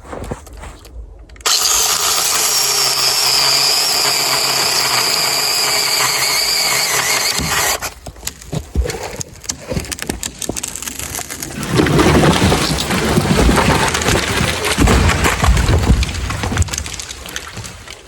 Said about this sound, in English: we're going to trip it with the Velotrex mini 8-inch cordless chainsaw